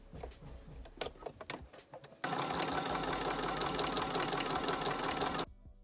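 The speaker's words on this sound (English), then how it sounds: "we're sewing them all together." Sewing machine stitching fabric strips together with a quarter-inch seam: a few scattered clicks and taps first, then a loud, steady high-speed whirring run of about three seconds that stops abruptly.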